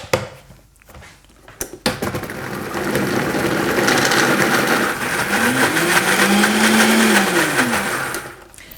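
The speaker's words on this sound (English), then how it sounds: "Now we're just going to give this a spin around in the blender." A countertop blender whirs loudly through a thick maca caramel mixture, starting with a few knocks and clatters before settling into a sustained roar that rises and falls in pitch as the blend thickens, then cuts off.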